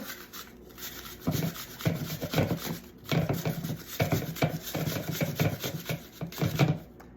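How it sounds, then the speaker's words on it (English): An apple is rubbed against a grater for a chickpea mushroom burger, giving quiet rhythmic rasping strokes in a steady back-and-forth pattern, about a dozen passes, with no talking. "And we're gonna grate the apple."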